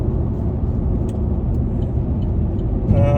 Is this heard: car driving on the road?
yes